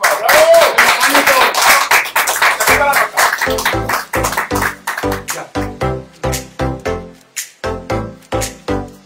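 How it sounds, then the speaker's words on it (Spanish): Loud applause and cheering from a television studio audience break out, then settle into rhythmic clapping in unison, steady beats continuing to the end. "Le damos un aplauso a Juanito, por favor."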